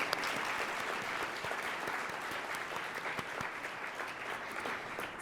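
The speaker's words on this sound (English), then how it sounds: "Let's give a round of applause." Sustained audience applause fills the room at the close of a panel discussion at a public forum, a dense steady wash of many hands clapping at even loudness with no speech over it.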